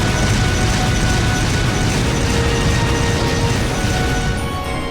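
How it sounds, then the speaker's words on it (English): Airstrike explosions during military exercises in the game Trails of Cold Steel, a dense continuous roar of blasts and rumbling that stays loud and unbroken throughout. "Oh, we got airstrikes."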